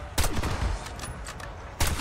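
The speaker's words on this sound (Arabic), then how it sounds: "السلاح بيضرب انفجارات زي ما انتم شايفين كده" An explosive-round weapon in the Black Ops 6 Zombies video game fires sharp, loud detonating blasts, one at the start and another near the end, with crackling combat noise filling the space between.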